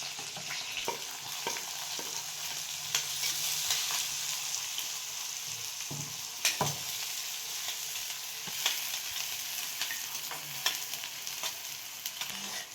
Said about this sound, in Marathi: भाजी बनवायची आपल्याला बटाट्याची मस्त लसूण टाकलाय जिरं मोहरी चांगलं परतून घ्यायचं